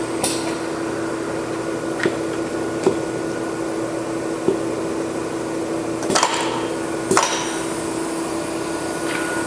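A Royal Master TG12X4 centerless grinder spins down after being stopped, giving a steady mechanical hum with a few sharp clicks and knocks scattered through it.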